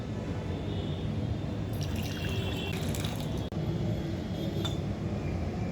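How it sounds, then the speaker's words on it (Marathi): Hot water poured from a vessel into a glass in a home kitchen early in the morning, a steady liquid stream with faint clinks and a brief break midway. "पाणी गरम झाले ओतून घेऊया"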